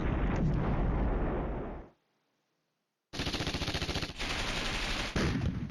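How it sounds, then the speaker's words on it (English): Artillery fire in the Flashpoint Campaigns: Red Storm wargame comes as a loud rolling barrage of rapid blasts, breaks off into a second of silence, then resumes as a dense clattering volley of shots and explosions. "And the artillery's in the game."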